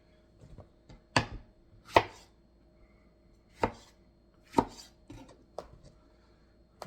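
A knife chops tomatoes into thick pieces on a board for lomo saltado, about eight separate, fairly loud thuds at an uneven pace, with quiet gaps between them and no talk.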